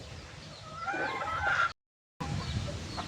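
A Dark Allen gamefowl rooster gives several close, throaty clucks and calls, with a brief gap of silence before more clucking.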